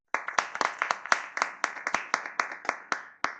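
A person stands and claps their hands in a steady run of about fourteen crisp, close claps, with no voices over them.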